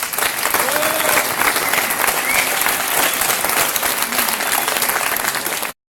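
Audience applause for pupils from primary and middle-school classes at a school event, a steady, dense wash of many hands clapping that holds loud and even for about six seconds before cutting off.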